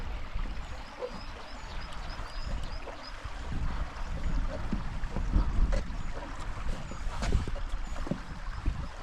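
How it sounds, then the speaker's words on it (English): Water flowing over rocks in a stream beside a hillside path on a hot day, a steady broadband rush with some low rumble, continuous and fairly close. "So there's a beautiful sound of flowing water over the rocks."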